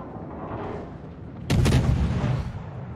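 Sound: ship cannon fire in a naval video game

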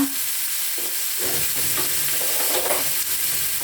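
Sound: stir-frying shiitake mushrooms in sesame oil

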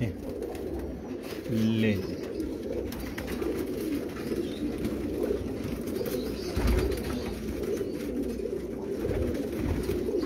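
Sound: breeder pigeons cooing in a cage

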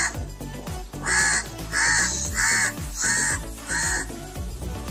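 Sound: crow cawing

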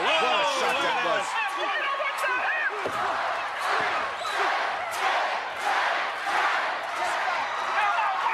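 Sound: wrestling arena crowd cheering

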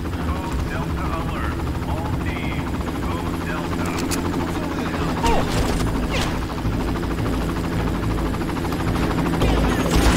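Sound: helicopter in the video game Far Cry

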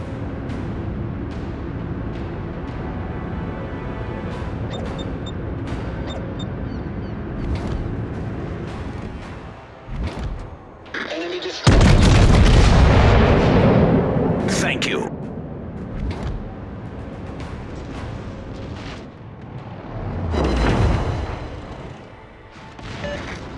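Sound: battleship gunfire in video game World of Warships

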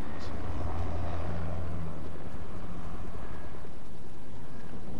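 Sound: helicopter flying in Fortnite video game

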